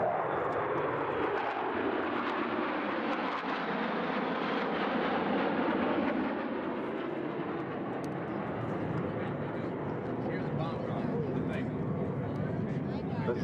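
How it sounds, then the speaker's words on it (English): F/A-18 Hornet jets from NAS Oceana fly past in a fleet flyby at an air show, a loud sustained engine roar that swells and fades over several seconds while an announcer talks over the public address. "from your left, the aircraft of NAS Oceana and the fleet flyby."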